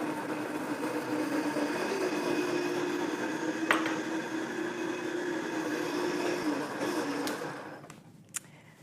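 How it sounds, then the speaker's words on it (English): A blender motor whirs at a steady, fairly loud pitch for several seconds, frothing butter coffee, then cuts off, leaving a quiet room with a faint clink. "we're going to turn our blender on for a couple of seconds"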